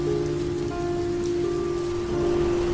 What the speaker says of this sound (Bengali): ট্রাক আরো কিছুটা যেতেই আরো জোরে বৃষ্টি শুরু হলো।